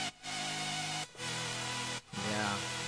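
Layered synth chords for an EDM cover shift roughly once a second, with a bright hiss of white noise filling the sound underneath; the texture is steady, dense and voiceless.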